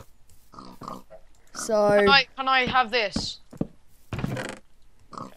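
Minecraft pigs oink and grunt in a few close bursts, loud against a quiet game background, while a person briefly talks between them.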